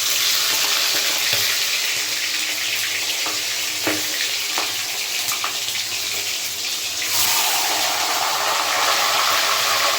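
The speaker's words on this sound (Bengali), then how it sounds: "প্রথমে আমি মাছের মাথাগুলোকে ভেজে নেব।" Fish heads frying in oil in a pan, giving a dense, loud, watery sizzle throughout, with a few soft knocks in the middle and a brighter surge of hissing toward the end.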